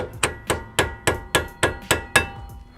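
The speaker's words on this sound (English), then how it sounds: "tap that guy with a hammer or something" Eight sharp metallic hammer taps on a Brembo brake pad pin in a steady rhythm, close and fairly loud, each with a short ringing decay.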